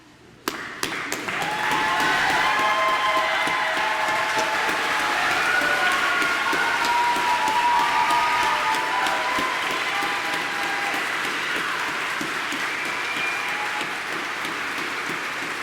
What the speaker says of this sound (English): give our 2023 nursing graduates a big round of applause